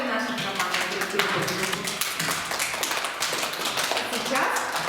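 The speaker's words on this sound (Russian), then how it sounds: "Похлопаем нашим командам." Children and an audience clap for the competing teams at a children's quiz game in a kindergarten speech-therapy group, a dense patter of hands running steadily throughout with voices mixed in.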